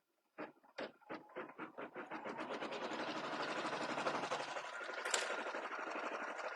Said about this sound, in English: Okay, so the machine is going.